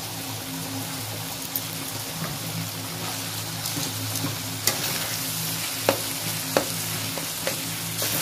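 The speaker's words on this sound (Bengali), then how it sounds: "বন্ধুরা এবার একটু আদা রসুনের কুচি দিয়ে দেবো।" Chopped ginger and garlic frying in a pan, a steady close hiss with a low hum beneath and a few sharp spatula clicks scattered through the second half, no voices.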